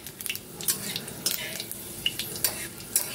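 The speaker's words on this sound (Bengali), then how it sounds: "এবারে এটা একটুখানি নেড়ে চেড়ে পাঁচ ফোড়নটাকে আমি ভেজে নেব" Panch phoron seeds and bay leaves frying in oil with dried chilli, stirred in a pan for shukto, giving a close, quiet crackle and sizzle broken by quick scraping clicks of the spoon against the metal.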